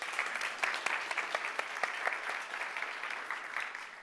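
An audience at the ZBrush Summit applauds, a dense, steady clapping from a crowd filling the room throughout, with no voices on top.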